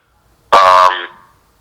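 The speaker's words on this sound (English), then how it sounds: "someone keeps beeping in" A single loud electronic beep on a conference call, a harsh buzzy tone lasting about half a second before fading, then silence.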